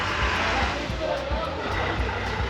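A car passes through a village with a continuous, fairly loud engine rumble and road noise that stays fairly level over a faint background murmur.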